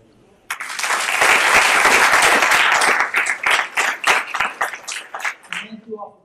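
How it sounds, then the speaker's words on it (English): Loud audience applause at a leadership lecture swells quickly and holds steady as a dense wash of clapping, then breaks into scattered, thinning claps before dying away. "give another round of applause to Mercantile Bank for their sponsorship of the lecture"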